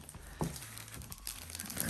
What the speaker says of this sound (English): The crinkle of the plastic.